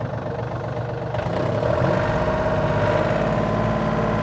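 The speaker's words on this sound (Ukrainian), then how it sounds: "І ще покажемо роботу ґрунтофрези" A Yanmar RS24 tractor with a half-cab drives a rotary tiller, its engine a steady close drone that swells louder after the first second and then holds an even, throbbing roar.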